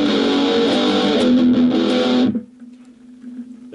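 Electric guitar with a distortion tone through a Roland Cube 15XL amplifier, heard as a loud, saturated sustained chord with some picked movement, cut off after about two seconds, leaving a faint lingering note and amp hiss.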